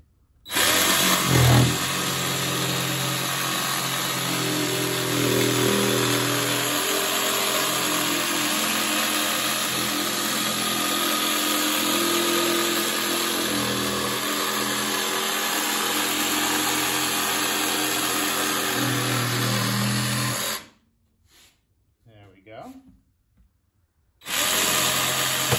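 A power tool cuts a line for an assemblage art piece, droning loud and steady for about twenty seconds before cutting off abruptly and leaving brief quiet handling noises.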